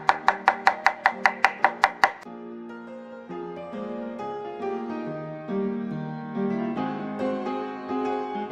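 A knife chops green bell peppers on a board in about nine quick, evenly spaced strokes that end after two seconds, followed by soft sustained musical tones.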